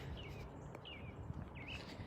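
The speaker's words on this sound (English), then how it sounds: "The birds get to sing." Birds sing by a quiet road: three short, faint whistled chirps rise and fall over a soft background hush, with no voices.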